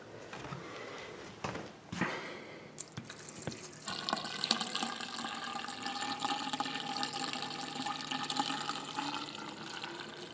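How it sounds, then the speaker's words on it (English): Liquid is poured into a vacuum cleaner hose, running as a steady continuous trickle and gush after a few brief knocks and handling sounds at the start. "And I am going to pour it inside the vacuum hose."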